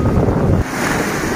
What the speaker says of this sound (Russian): Смотри, какая волна идет.